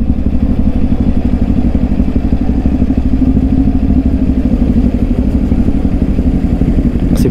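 A Kawasaki Ninja 400 motorcycle pulls away in first gear, its engine a loud, close, steady throbbing drone with a busy, clattery pulse that runs without a break and with no voices.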